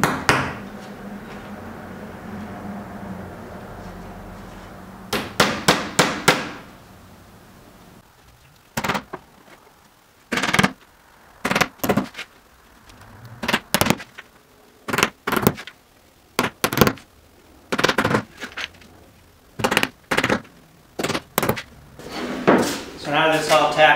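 Sharp hammer taps tacking a wooden cleat down onto a boat panel for a PT11 build, arriving in quick clusters of two to five strikes separated by pauses, with a low hum and faint talk early on.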